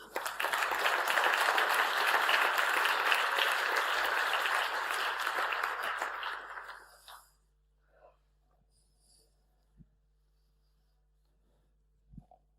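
An audience at the Hack.lu 2016 security conference claps steadily and fairly loudly for about seven seconds, then the applause dies away. A few faint knocks and shuffles follow in a quiet room.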